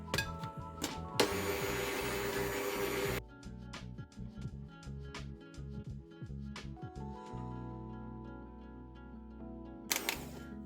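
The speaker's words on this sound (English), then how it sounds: "So let's use these dough hooks now" An electric mixer with dough hooks kneads chocolate Easter egg bread dough, a close mechanical whirring with knocking clatter as the hooks turn, switching on and off in short runs, with no talking.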